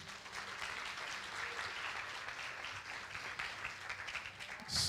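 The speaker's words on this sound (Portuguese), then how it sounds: "Dê uma salva de palmas ao Senhor" Worshippers at a church service give a round of applause to the Lord, a full, even crackle of many hands clapping steadily for several seconds, ending with a brief louder burst.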